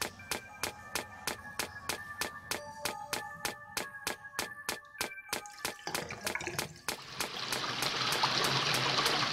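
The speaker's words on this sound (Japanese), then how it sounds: "今度は水の流れか。" Water trickles and splashes in a cave in a horror video game, starting as rhythmic dripping splats and then swelling into a steady, rushing flow.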